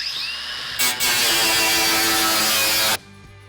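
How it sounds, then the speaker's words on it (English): Power tool trimming the inner sheet-metal edge of a 1965 Chevy truck fender, a loud steady high-pitched whine and grinding that starts after a short lead-in, runs for about two seconds, then cuts off sharply, with no talk. "we're gonna trim the inside of the fender just barely here so that it will fit over these shock towers"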